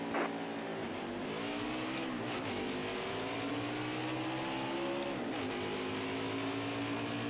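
NASCAR race car engines in NASCAR Heat 5 at Homestead, heard as a continuous loud roar with rising and falling revs and brief gear-shift dips as the cars run. No one speaks.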